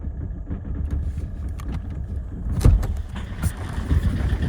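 Citroen C5 car engine running rough and misfiring, a low uneven idle with irregular knocks and stumbles, heard close and without talk.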